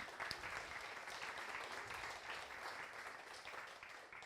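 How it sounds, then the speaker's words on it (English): Audience applause for an organizing committee at a scientific talk on acoustic metamaterials, steady dense clapping from a crowd throughout, fairly faint and distant with no talk over it. "So please clap your hands for the organization committee."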